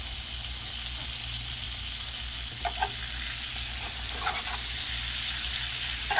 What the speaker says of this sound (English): So you put a stick of butter in there.